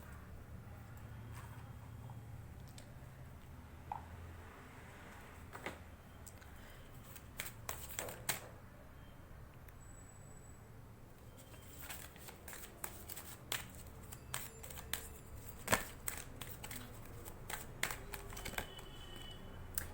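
Tarot cards are shuffled and handled close up, soft riffling and scattered crisp taps and flicks across a quiet room.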